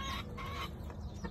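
Rooster crowing once nearby, a loud, drawn-out call with a rising then falling tone filling the whole short moment.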